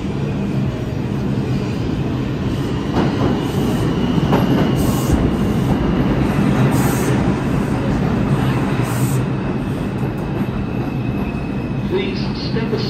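A subway train rolls into a station with a steady loud rumble of wheels and carriages, faint squeals and clatter, while a recorded announcement plays over it.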